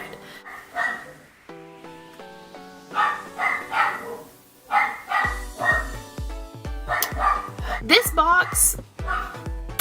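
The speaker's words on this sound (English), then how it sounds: "she's barking at him because he's talking outside" A pet dog barks indoors in short repeated bursts at someone talking outside, mixed with background music and a person speaking close to the microphone.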